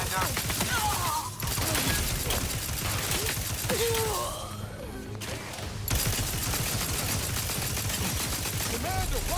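Dense, continuous gunfire in the Outer Worlds 2 video game, a steady rattle of overlapping shots with a brief lull midway, with voices heard faintly underneath.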